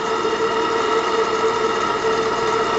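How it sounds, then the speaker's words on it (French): A small Bavaria steam engine of 8.5 cm3 runs on a workshop boiler, giving a steady, even mechanical hum with a constant tone and no change in pace. "écoutez-le déjà, le moteur"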